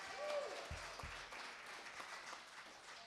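Audience applauding at a rock show in Arkansas to honor a high school graduate, a broad wash of clapping and crowd noise that holds steady throughout, with a couple of low thumps near the start.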